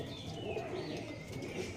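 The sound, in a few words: Punjabi Malbai pigeons cooing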